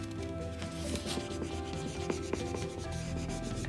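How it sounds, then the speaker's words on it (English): Something presses and rubs firmly along the edges of an adhesive stencil stuck on canvas, making close, dry scratchy strokes in a quick back-and-forth rhythm. "Just giving my edges a little bit of extra burnishing."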